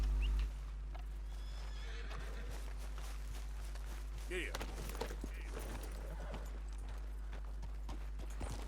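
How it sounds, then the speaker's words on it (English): A horse in Red Dead Redemption 2 whinnies while hooves clip-clop steadily, with a faint voice in the background and a low steady hum underneath. "Where's my horse?"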